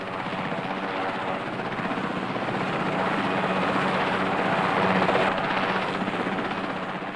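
A military helicopter's rotor thumps steadily and continuously over the Falkland Islands, fairly close and loud, with a constant engine whine and no voices.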